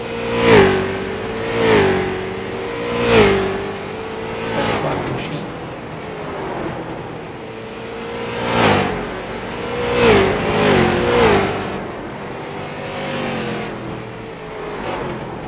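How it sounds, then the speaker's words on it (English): Stock cars at Hickory Motor Speedway in a night short-track race, engines roaring loudly and revving up and down in repeated cycles as they lap close by and shift through the corners. "the number 42 machine of Braden Movick taking his stock car around Hickory Motor Speedway."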